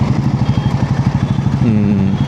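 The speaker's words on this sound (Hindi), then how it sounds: "अभी आप बस ये सुनते रहिए बाइक का जो मधुर आवाज़ है।" A motorcycle engine idles with a steady, throbbing exhaust pulse, loud and close, then its pitch rises slightly near the end.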